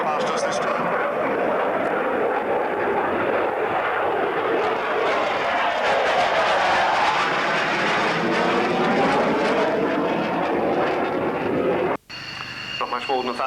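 A Pratt & Whitney jet engine in reheat roars steadily and loudly as an aircraft passes close by at an airshow, the noise cutting off abruptly near the end.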